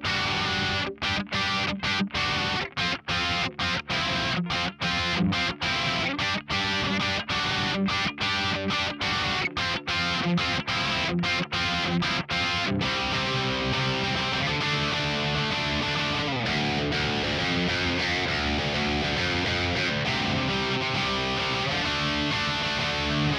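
An electric guitar with Balaguer Evergreen humbucker pickups plays with a moderately overdriven, mid-gain crunchy tone, choppy chords at first, then sustained ringing notes, loud and alone.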